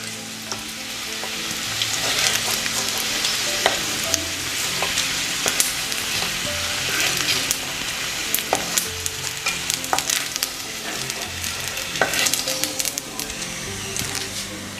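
Potatoes sizzle steadily in a hot wok, frying golden brown, a continuous hiss with frequent crisp pops and scraping clicks, close and fairly loud.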